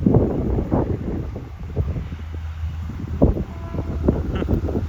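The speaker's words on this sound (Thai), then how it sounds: "ลมแรงมากครับลมแรงมาก" Strong wind gusting beside a railway track on an overcast day, a steady low roar of buffeting microphone noise with a few louder bursts, with no talking.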